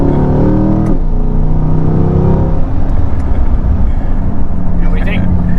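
A 2023 Corvette C8 Stingray mid-engine sports car, 2LT with Z51 package, roars loudly and climbs in pitch as it accelerates, then holds a strong, rumbling drone throughout.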